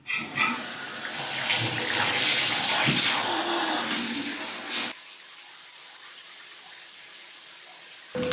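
Water runs steadily in a shower during body scrubbing, a loud broadband spray that continues for about five seconds, then drops suddenly to a quieter, thinner trickle.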